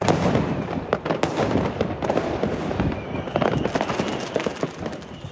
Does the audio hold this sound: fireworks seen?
yes